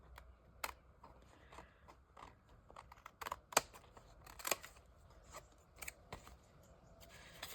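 Scissors snip through craft material in a series of quick, uneven cuts, some sharp and close, with light rustling and handling sounds between the snips.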